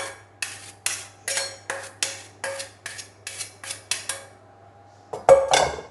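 Squid stuffing spooned into a gratin dish, a run of about a dozen sharp, evenly spaced clinks of spoon against the dish, close and clear, ending in a louder cluster of scraping knocks.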